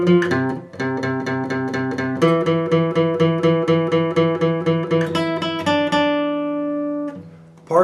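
Electric guitar plays part 2 of a riff: a steady stream of clean, evenly picked notes repeating a short pattern, close and clear, ending on a ringing sustained note that fades out.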